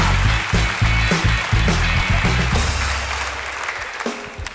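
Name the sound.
audience applause at comedy show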